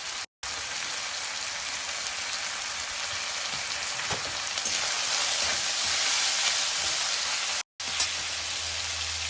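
Onion, ginger, garlic and tomato frying in a pan with salt, giving a steady, loud sizzle and crackle like rain that runs nearly unbroken, with two brief cut-outs.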